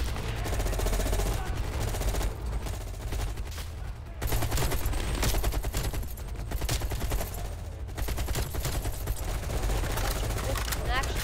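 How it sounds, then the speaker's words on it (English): Gunfire in the video game Call of Duty Black Ops Cold War: rapid machine-gun bursts and fusillades, loud and nearly continuous with brief lulls, mixed with voices talking under the combat. "Shooting at anything, bud."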